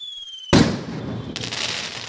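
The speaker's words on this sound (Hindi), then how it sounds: "राहुल और प्रीति एक तरफ अपने साधारण पटाखे जलाने लग जाते हैं" Diwali firecrackers go off in a courtyard: one sharp loud bang after a thin whistling whine, followed by crackling bursts and fizzing that flare again a moment later.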